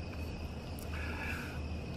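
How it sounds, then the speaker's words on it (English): Crickets chirp steadily on a September night in West Michigan, a faint continuous high trill heard from inside an opened-up house with no talking. "I can hear the crickets."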